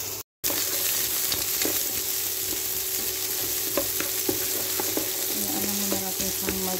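Onion-type aromatics frying in a pan while being stirred, a loud continuous sizzle with scattered scraping and clacking from the stirring utensil, close and without talk.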